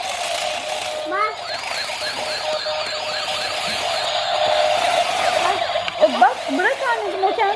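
A toy ambulance siren wails in a looping electronic pattern, steady and close, with a voice and adult talk mixed underneath.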